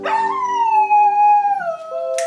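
A dog howls in one long, sustained, slowly falling note, close and clear, ending with a brief higher sound.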